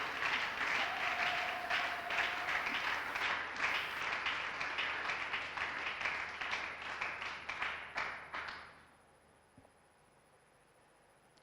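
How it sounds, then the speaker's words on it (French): Church congregation at a healing and deliverance service applauding together, a sustained burst of clapping that gradually thins into scattered claps and fades to near silence at the end. "Acclamez pour le Seigneur."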